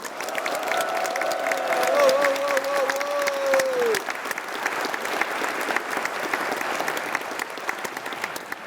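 Sustained applause from a crowd at a year-end foundation event, steady clapping throughout, with a faint tone or whistle rising over it early on.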